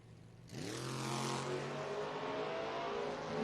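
A footbrake drag racing car launches at a track event, its engine snapping from idle into a loud, sustained roar that rises steadily in pitch as it accelerates away, heard from nearby with no talk over it.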